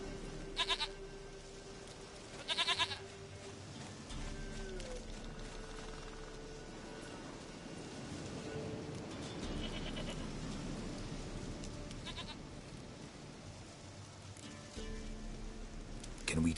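Goats bleating in The Witcher 3 video game, a few short nasal bleats scattered across the clip over light rain and ambient background, with a voice speaking in between.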